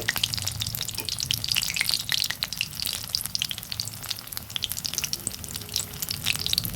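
Banana flower pakoras bubble and sizzle steadily in hot oil, a dense close crackle with scattered sharp pops throughout and no voices.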